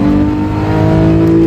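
A Porsche 911 GT3 engine with a PDK gearbox revs hard while driving, a loud, sustained, rising mechanical roar close by, with no voices.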